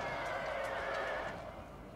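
Cavalry horses neigh during a battle in the video game Shogun 2: Total War. Shrill whinnies rise over the battle din, then ease off and fade toward the end.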